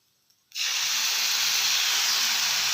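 Milk poured into a hot pan of fresh coconut and ghee for coconut barfi bursts into a sudden loud, steady hiss of steam after a brief quiet moment, and the sizzle keeps going unbroken.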